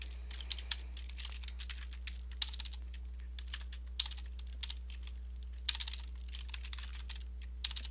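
Rapid typing on a computer keyboard during a coding session, with irregular bursts of clicky keystrokes broken by short pauses, close and fairly quiet over a steady low hum.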